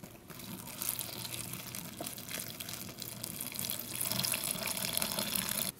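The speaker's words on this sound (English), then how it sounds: "So we're going to add our 2 cups of water." Hot water poured into a 2004 cold-weather MRE turkey tetrazzini entree pouch, a continuous soft gushing stream that holds steady for about six seconds without talk.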